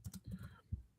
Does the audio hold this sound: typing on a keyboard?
yes